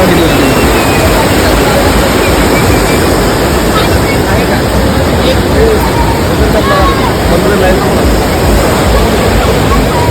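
River at a crowded Shiva temple site at Ambarnath, with a steady, loud broadband rush of water and wind filling the whole stretch, while crowd murmur blends underneath throughout.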